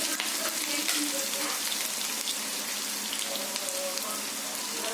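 Onions sauté in a pan for an ivy gourd curry, a constant, even sizzle and crackle of frying heard up close with no talk over it.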